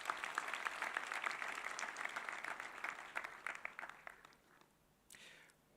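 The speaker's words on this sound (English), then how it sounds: "Kindly give Dr. Vincent Ogutu another round of applause" Audience at a Strathmore University graduation ceremony applauds steadily, the dense clapping thinning out toward the end before a brief final burst.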